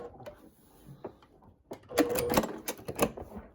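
A sewing machine runs a quarter-inch quilting seam in short bursts of rapid mechanical stitching, louder toward the end, close up with quiet gaps between runs.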